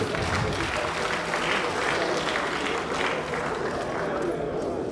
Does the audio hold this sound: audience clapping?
yes